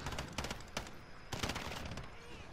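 Finn light machine gun firing in Modern Warfare, several rapid bursts of automatic gunfire with short gaps between them, fairly faint and sharp.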